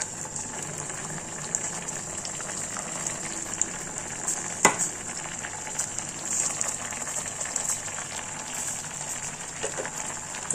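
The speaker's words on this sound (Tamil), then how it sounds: "சர்க்கரையில் இந்த மேங்கோ எல்லாம் நல்லா கொதிக்கிட்டு குதிச்சு வரட்டும்." Soft, steady bubbling and hissing of mango pieces simmering in sugar syrup in a pot, with a faint clink partway through; fairly quiet and continuous.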